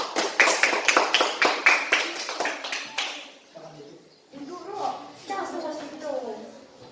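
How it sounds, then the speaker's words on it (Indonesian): Schoolchildren in a classroom clapping for a group's presentation, a quick run of sharp, close claps that fades after a few seconds into children's chatter and a teacher speaking. "Kepada kelompok 2 kita beri tepuk tangan dulu"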